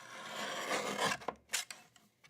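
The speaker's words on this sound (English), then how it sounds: "I'm going to trim that off." Paper trimmer blade slicing a thin white edge off cardstock, a close sustained rasping cut lasting about a second, followed by a few short sharp clicks and taps, no voice.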